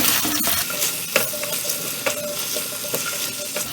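A spoon stirs red chilli sauce and soy sauce over a low flame for Indo-Chinese chilli arbi, scraping in steady strokes over a soft sizzle, close and unaccompanied.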